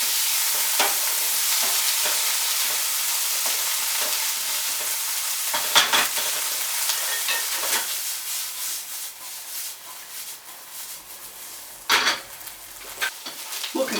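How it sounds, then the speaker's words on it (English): Beans cooking in a pan give a continuous bright sizzle, broken by scraping, rubbing stirs from a utensil at irregular intervals, close and moderately loud with no speech. "keep it stirring pretty constant here"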